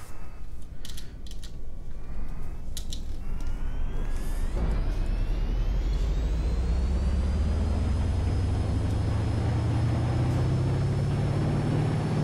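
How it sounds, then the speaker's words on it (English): A high-pitched turbo whine from an ETK K Series car in the game BeamNG.drive rises steadily over a revving engine, climbing in pitch and then holding loud and constant. Several clicks come early on. "you can hear the turbo, It's is pretty loud."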